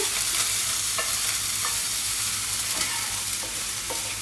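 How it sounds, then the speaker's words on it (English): Fried rice cakes tossed around a frying pan with a steady sizzle, broken by a few soft scraping strokes as they are moved, close and continuous with no talking. "so let's just move that around the pan"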